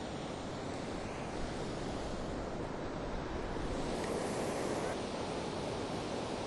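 Steady roar of ocean surf on an Oregon coast beach as the tide comes in, broadband wash of waves with wind buffeting the microphone, continuous and fairly loud with no voices.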